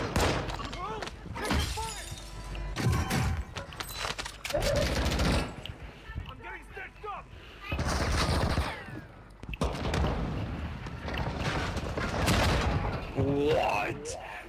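Sniper and weapon fire in the Warzone battle royale game, several loud cracks and crashing impacts spread through the clip, heard beneath frequent voice chat from players talking throughout.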